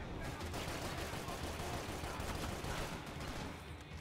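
Max Payne 3 gunfire rattles in a dense, steady barrage during a pier shootout, fairly quiet and continuous with no pauses.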